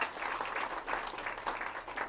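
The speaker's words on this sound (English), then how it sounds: "definitely a round of applause there." A brief burst of audience applause for conservation collaborators at a Nature on Tap talk, steady close clapping from a modest crowd lasting a couple of seconds.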